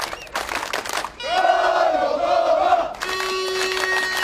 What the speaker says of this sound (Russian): Фанаты начинают скандирование.